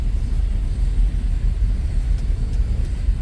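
A 1969 Ford Mustang GT Fastback idling as its engine warms up, a deep, steady low rumble close by with slight pulsing and no voices.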